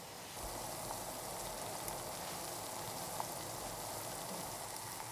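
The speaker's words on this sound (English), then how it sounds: "It's now really boiling and bubbling." A pot of spicy chicken and vegetable soup at a steady rolling boil, dense bubbling and hissing that stays constant throughout, close by with no voices.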